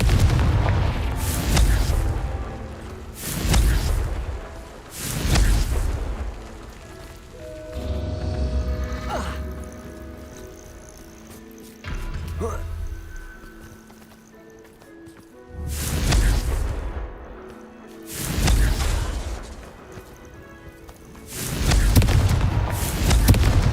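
Confringo fire spell explosions in Hogwarts Legacy, a series of loud booming blasts recurring every few seconds, with quieter stretches between them.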